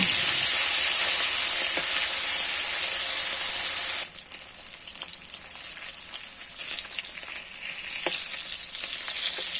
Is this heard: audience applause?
no